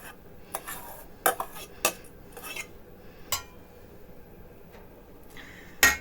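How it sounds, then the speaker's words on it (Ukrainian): A spoon clinks and scrapes against a bowl as filling ingredients with garlic are stirred for lazy belyashi, with sparse, irregular taps, close and quiet. "Все це розмішуємо добре"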